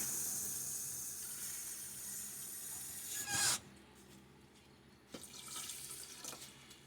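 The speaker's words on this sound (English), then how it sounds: "I'm going to put 2 cups of water." Tap water running into a pot for rice, a faint steady hiss of flowing water that cuts off after a few seconds, then a brief clunk and a second short burst of running water.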